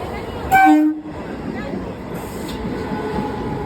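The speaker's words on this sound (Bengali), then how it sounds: "ট্রেন চলে এসেছে দেখতে পাচ্ছ" A train pulling into a station sounds a short, loud horn blast, then rumbles on steadily beneath crowd noise and voices on a busy platform.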